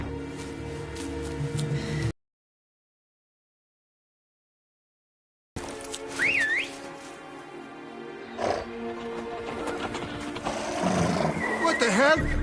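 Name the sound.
horses neighing in The Witcher 3 video game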